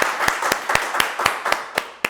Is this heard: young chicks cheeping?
no